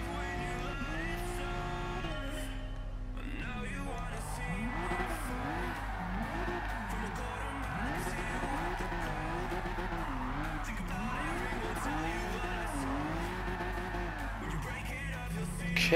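A Honda NSX with a drift setup in Gran Turismo Sport, its engine droning steadily while tires squeal in repeated wavering arcs through the drifts, loud and close with no speech.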